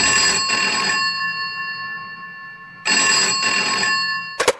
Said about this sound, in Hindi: उसके कमरे का लैंडफोन बजा